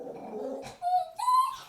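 A small dog whimpers and growls indoors at critters outside, a low rumbling growl followed by two high, rising whines, close and clear with no talking.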